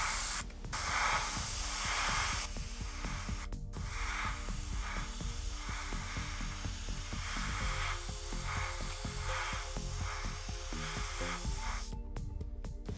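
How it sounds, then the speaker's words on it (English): Airbrush spraying AK Real Colors acrylic paint thinned with Tamiya Lacquer Thinner, giving a steady close hiss with brief bursts of air, continuous with short pauses. "It's sprayed just fine using the Tamiya Lacquer Thinner."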